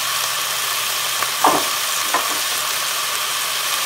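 Chicken pieces fry in a hot pan with a steady, close broadband sizzle throughout, broken by a couple of brief spatter pops, for a Puerto Rican-style eggplant and chicken dish.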